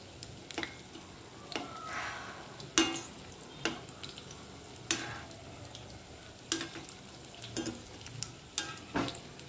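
Chana dal, moong dal and amaranth leaf vada batter frying in hot oil; a steady soft sizzle sits under repeated scraping and stirring sounds and a few light clinks from the pan, with no speech.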